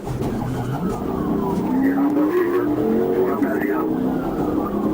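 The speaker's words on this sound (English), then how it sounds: "determined to stop a car racing over 100 miles per hour in a 40-mile-per-hour zone" A car racing over 100 mph in a 40 mph zone during a Texas police chase, its tires squealing and skidding in rising and falling whines over a constant roar, with radio chatter and voices talking throughout.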